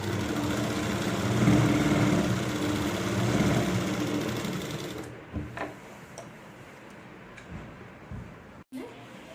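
A sewing machine stitching a Rajputi lehenga runs in a steady, dense whir for about five seconds, then stops, leaving only a few faint ticks and handling sounds.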